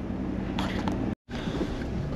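Steady wind noise buffets the microphone in a dull continuous roar, briefly cutting out for a moment before resuming.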